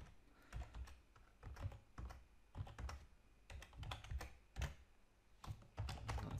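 A password is typed on a computer keyboard in a steady run of quiet, close clicking keystrokes with brief irregular pauses between bursts.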